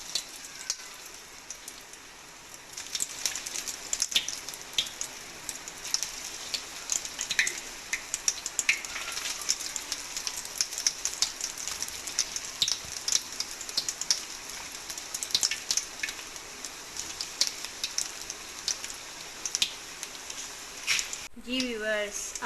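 Potato balls deep-fry in hot oil, giving a dense, continuous crackling sizzle that builds after a quiet start and keeps on close by, with a sharp clunk near the end.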